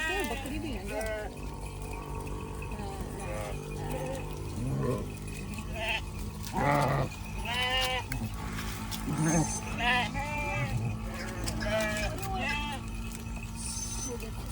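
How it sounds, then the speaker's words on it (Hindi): Sheep and goats bleat repeatedly on a rural Rajasthan farm, some calls near and others farther off, overlapping at irregular intervals while people talk in the background. "भेड़ भी है, बकरी भी है।"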